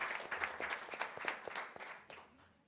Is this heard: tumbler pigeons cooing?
no